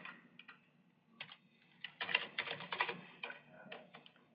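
Code being typed on a computer keyboard as a quiet, close run of irregular key clicks that come in clustered bursts with short pauses between them.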